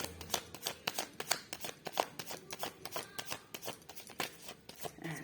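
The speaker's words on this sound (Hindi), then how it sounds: "And this is last shuffle." Tarot cards riffled and shuffled by hand in quick, crisp bursts, a steady run of close, sharp flutters and taps with no voices.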